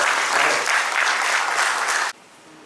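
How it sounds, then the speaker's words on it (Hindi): Dense, loud applause from an audience at a poetry recital fills the moment steadily for about two seconds, then cuts off abruptly to near quiet. "एक बार आप अपने लिए जोरदार तालियां।"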